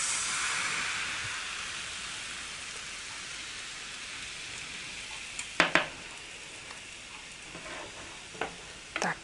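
Crepe batter sizzles steadily in a hot pan, a constant crackling hiss up close, with a few light clinks of a utensil near the end.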